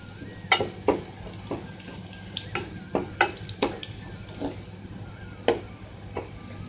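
Cumin seeds sizzle in frying onions in a pan, with a soft steady crackle underneath and a string of sharp metallic clinks and scrapes as a spoon stirs at an uneven rhythm.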